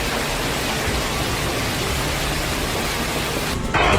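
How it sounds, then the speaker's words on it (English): Dense, hissing clatter of hail pelting a parking lot during a hailstorm fills the whole stretch, loud and steady, shifting slightly at the very end. "A hailstorm batters a parking lot."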